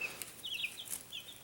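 Two-week-old chicks cheep and cluck under a heat lamp, a cluster of faint, high peeping calls in quick succession with soft rustling.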